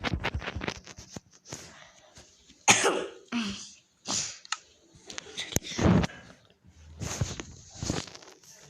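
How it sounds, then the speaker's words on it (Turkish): A sick person has repeated coughing fits, several harsh bursts with short gaps, close and fairly loud, with a throat-clearing rasp among them. "Öksürebilirim."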